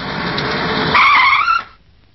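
A car's tires screech loudly as it skids to a halt. The squeal sharpens near the end, then cuts off abruptly into near silence.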